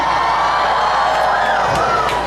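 Large outdoor crowd at a mass fun walk event cheering and shouting in a loud, continuous roar, with a few higher whoops rising above the din.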